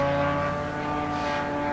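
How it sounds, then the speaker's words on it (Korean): An FP1 kamikaze drone engine flies over Moscow, a steady, droning motorcycle-like buzz that holds level and fairly loud throughout the short stretch, with no voices. "그냥 이 엔진 소리가 오토바이 소리 같은 나죠."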